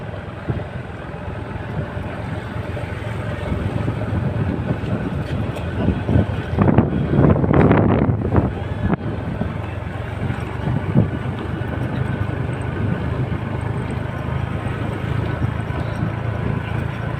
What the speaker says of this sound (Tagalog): Grabe ang ihip ng hangin, malamigmig basta naa ka sa tuktok ng bundok.